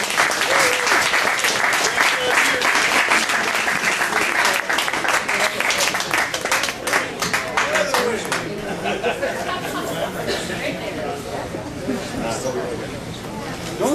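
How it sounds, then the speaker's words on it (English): A loud, dense burst of audience applause greets Tommy Chong at a White Hat ceremony in Calgary, close and sustained, then thinning into scattered claps under crowd chatter and talk. "Put your hands together, ladies and gentlemen,"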